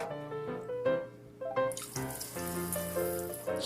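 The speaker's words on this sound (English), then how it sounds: "He's gonna squirt Zuma" Water squirts and splashes from a Paw Patrol Sea Patrol bath toy, with tap-like running water in short bursts and a steadier flow, close and moderately loud, while a voice is faintly heard.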